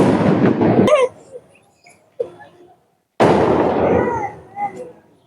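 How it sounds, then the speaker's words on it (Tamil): Firecrackers burst in sharp, loud bangs, one near blast followed by smaller pops and crackles, then a second loud burst with echoing tails and scattered snaps fading out. "பட்டாசுலாம் வெடிக்கிறாங்க பாருங்க"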